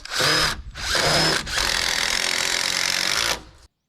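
A power drill drives screws into wooden wall boards of an off-grid cabin under construction in northern Ontario: two short loud whirring bursts, then one longer sustained run of about two seconds, close by with no talking.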